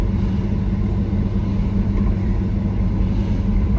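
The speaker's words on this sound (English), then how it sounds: "Subaru Sambar KS4 truck, 5-speed manual transmission." Subaru Sambar KS4 kei truck with a 5-speed manual, its small engine humming at a steady low rumble while driving through town, constant and close with no voices.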